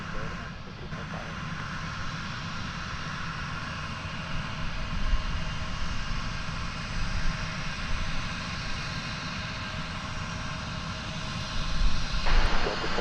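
A regional jet operated by Envoy takes off from runway 36 right at Dallas/Fort Worth International Airport, its engine roar a steady broadband rumble throughout, swelling slightly near the end, with radio talk heard over it.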